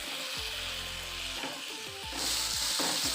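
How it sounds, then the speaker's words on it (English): Chicken stew sizzling in a pot as tomato paste is stirred in, with steady frying hiss and repeated scraping stir strokes, close and fairly loud, no talking. "It's just a matter of mixing for them to blend in together well."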